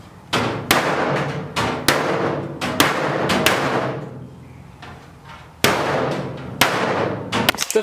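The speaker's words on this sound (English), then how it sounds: "I'm going to leave the top on there so that I know how far I can sort of hammer it up." Hammer blows on a panel in a one-car garage, beating it flush: loud, close, sharp metallic strikes in irregular clusters with ringing decay, a pause midway, then more hits.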